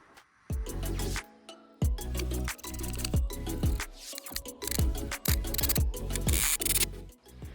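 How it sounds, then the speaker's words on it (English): Screws driven into a wooden seesaw board, repeated whirring bursts of a power driver, each starting sharply and winding down, several in quick succession and close by. "I'm about to secure it in place with some screws now"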